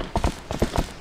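Hooves of the horse Epona in the video game Zelda Twilight Princess clip-clop in a quick, close rhythm of about six hoof strikes.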